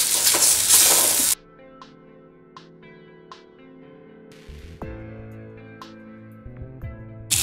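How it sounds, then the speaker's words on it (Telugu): Onions frying in a pan with ginger garlic paste added, giving a loud sizzle at first, then quieter light frying with several sharp stirring clinks against the pan. "ఆనియన్స్ వేగే వరకు మనం ఇలా కలుపుకుంటూ ఉండాలి"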